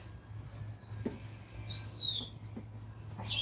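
A pet bird in a room gives a single bright, descending whistled call partway through, set against a low steady hum with faint knocks around it.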